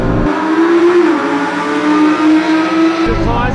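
A Golf 7R and an Audi R8 V10 launch off the line in a drag race, with tyre slip: a loud, close engine roar holds a high revving note across the run, with no talk over it.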